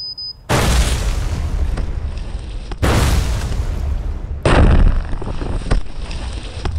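Military explosive ordnance disposal charges detonate as a series of three heavy, loud booms, each followed by a long rumbling roar and debris noise.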